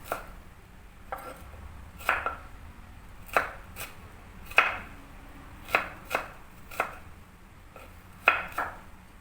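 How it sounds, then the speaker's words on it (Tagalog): An onion sliced with a knife on a cutting board, roughly a dozen crisp, evenly spaced chops ringing out close up against a quiet kitchen, with no voices. "Maglagay din pala tayo ng sibuyas. Ngayon, slice ko lang din."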